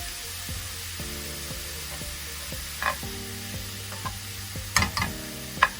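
Mushrooms, including king oyster mushrooms, sizzle and fry in a hot pan, a steady crackle broken by occasional scraping stirs and a few clinks of a utensil.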